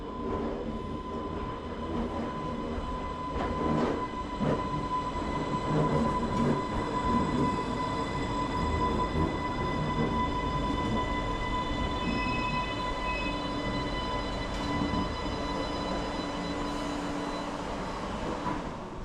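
An Island Line train at Shanklin terminal station on the Isle of Wight rumbles steadily nearby with a persistent electrical whine and occasional clanks and squeals, with no one talking.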